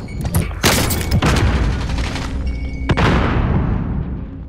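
Video game combat with a close, loud grenade blast and bursts of gunfire, sharp booms standing out against continuous rattling shots and a decaying rumble.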